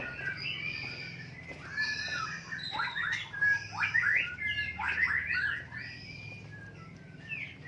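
Caged magpie-robins (murai) calling repeatedly at close range, with harsh squawks and sharp whistled notes overlapping in busy bursts over a low background hum.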